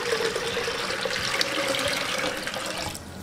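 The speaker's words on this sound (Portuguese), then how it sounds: "E aqui eu vou colocar também 2 litros de água." About two liters of water being poured into a pressure cooker pot while making canjica: a steady, close splashing stream for roughly three seconds that stops abruptly near the end.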